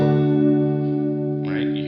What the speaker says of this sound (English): the chorus, that sounds kind of like the typical 80s sound